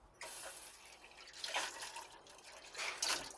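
Water runs and splashes as a container is rinsed out at a sink while cooking deep fried ribs, coming in two louder bursts of gushing and sloshing against a quiet background, with no talking.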